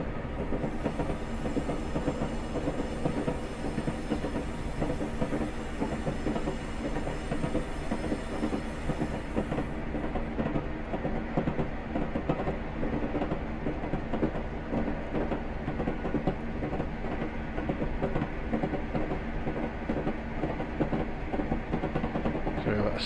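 Class 37/4 diesel locomotive coasting down a 1 in 50 gradient between Mallaig and Fort William in Train Simulator Classic, with a steady rumbling roll and rhythmic wheel clatter throughout, engine noise easing midway as it drifts downhill.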